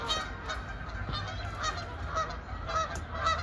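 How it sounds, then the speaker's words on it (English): Geese honk repeatedly in a noisy flock, overlapping calls continuing throughout at a steady moderate distance, with no one speaking. "I'll leave you with the geese"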